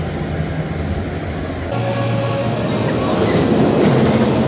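Thorpe Park's Ghost Train, a rattly theme-park dark ride, rumbles with a steady loud rolling roar and clatter that grows slightly louder toward the end, with faint voices underneath.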